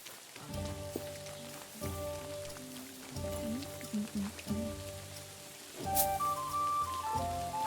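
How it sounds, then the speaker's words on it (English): Rain pattering steadily in the video game Kingdom Come Deliverance II, a continuous light hiss under tonal music-like layers that swell and break off in phrases. "Ugh, this damned rain."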